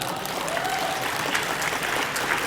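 Audience applause fills a forum on humanity, solidarity and urban civilization in Surabaya, greeting a government figure; dense, steady clapping holds evenly for the full stretch without talk.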